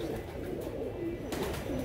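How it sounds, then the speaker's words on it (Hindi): Pigeons coo in low, rolling, repeated calls close by, with several birds overlapping in a soft continuous murmur. "ये देखो दोस्तों, इन सब कबूतरों का आपको"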